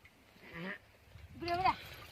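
A sheep bleats twice, a wavering call followed by a louder, higher second bleat, close by on a Marwari farm, with voices around it.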